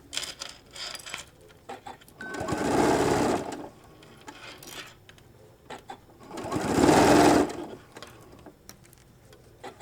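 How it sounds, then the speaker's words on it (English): Sewing machine stitching across the tab of a colour-pop shoulder bag, two steady whirring bursts of a few seconds each, separated by quiet pauses filled with light clicks and handling sounds. "We're just lining everything up and stitching across"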